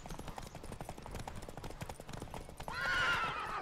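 A horse gallops in The Witcher 3 with a steady clip-clop of hooves and a neigh near the end, close and fairly loud over game ambience.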